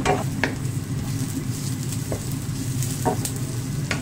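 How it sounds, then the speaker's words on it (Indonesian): Celery, onion and radish stir-fried in a pan for fried rice make a continuous close sizzle, with occasional scrapes and taps of a utensil stirring through it and no voices. "Hari ini ditumisin dulu nih, seledri, bawang, terus ini lobak ya,"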